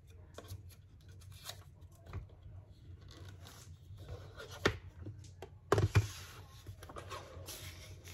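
Scissors snip through a paper restaurant guest check for a junk journal craft project, making soft close crisp cuts and paper rustles with a sharper crinkle near the end, quiet and with no talking.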